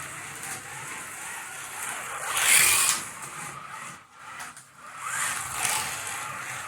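A Carrera slot car, a Lamborghini Huracan Performante, runs its small electric motor on the track, making a steady whirring hiss that rises and fades as the car passes near, then swells again.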